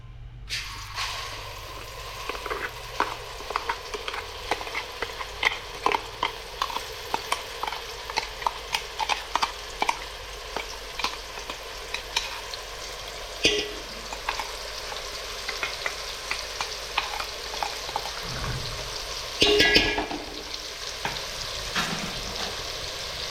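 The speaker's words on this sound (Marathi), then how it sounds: "ते आपण आता तेलामध्ये शिजवणार आहोत" Finely ground spice paste for a red snapper fish curry sizzling and frying in hot oil over low heat, with repeated scraping stirs of a spoon against the pan, close and steady, no talking.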